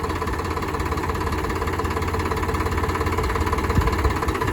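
A tractor engine running steadily with a rotavator attached while tilling a soil field, a loud continuous mid-range drone with a knocking, idling throb that holds steady throughout.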